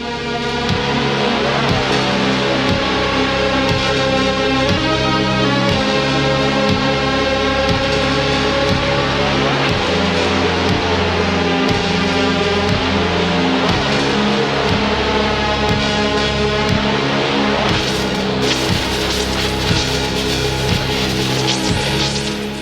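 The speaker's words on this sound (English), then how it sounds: "there's these cool neon synths that are coming through, but they're dangerous and they are dripping electric water" A dense Stranger Things 3 synthesizer score cue plays continuously, with glassy pulsing synth layers over a deep rhythmic low end, brightening with a hiss-like wash near the close.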